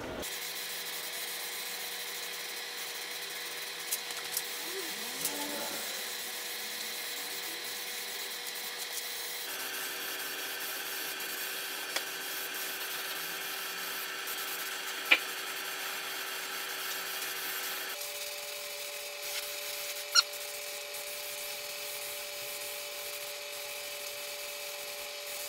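High build primer hisses steadily from a Halfords aerosol tin onto the bumper of a Sierra Sapphire RS Cosworth, a continuous close spray broken into three long passes with faint clicks, and no voices.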